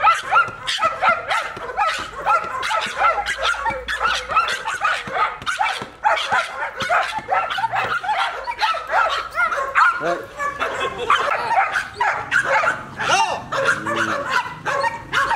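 A protection-training dog barks and yips over and over in rapid, excited bursts close by during a first training session, mixed with whimpers and some brief talking.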